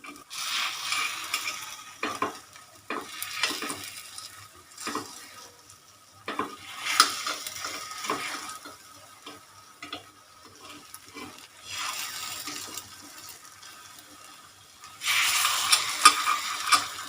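Egg paniyaram with onion and carrot frying in a paniyaram pan as the pieces are turned, giving repeated clicks and scrapes over a steady sizzle, with a louder burst of frying near the end.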